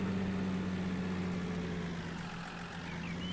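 A tractor engine idles in Farming Simulator 19 with a steady low drone and a constant hum that stays level and close throughout, with no other sounds.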